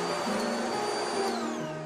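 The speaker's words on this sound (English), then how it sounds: "Let's go ahead and turn it on so you can hear what it sounds like." A Eureka Flash cordless stick vacuum cleaner motor runs steadily up close, a high whine over a broad whooshing hiss, with a slight pitch shift near the end.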